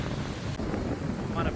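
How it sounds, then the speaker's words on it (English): Brief, low wind buffeting against a microphone on a bluff in downtown Beaufort, South Carolina, a soft rumbling gust heard up close. "It's a bit windy."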